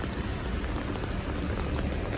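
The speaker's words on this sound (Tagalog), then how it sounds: "Yan o, lakas ng ulan o" Heavy rain pours down in Kuwait in a dense, continuous hiss of drops striking surfaces, loud and close with no break and no voices.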